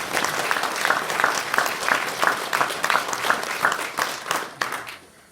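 Applause fills a political party gathering in Rapla, Estonia: a dense crowd clapping steadily and loudly for about five seconds, then tapering off at the end.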